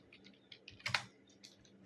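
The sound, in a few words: typing Tally Prime on a computer keyboard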